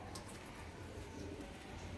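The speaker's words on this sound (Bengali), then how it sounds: "4 জোড়া পায়রা দেখালাম" Rajshahi Giribaz pigeons cooing softly in a loft, low murmuring coos running steadily through the short stretch over a faint hiss, with no talking.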